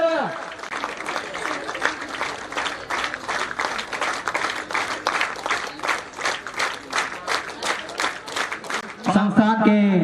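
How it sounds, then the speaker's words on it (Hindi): Audience at a polytechnic alumni meet during a Saraswati Puja celebration, clapping in a steady, even rhythm of sharp beats. Near the end the clapping gives way to someone talking. "तालियां नहीं रुकनी चाहिए"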